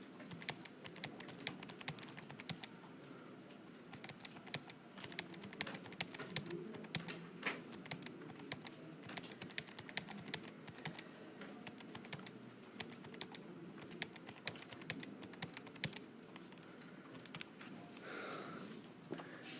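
Rapid, irregular clicks of number keys being tapped on a graphing calculator, entering values for a 4 by 7 matrix, steady and close for about twenty seconds, with faint bird cooing somewhere in the background.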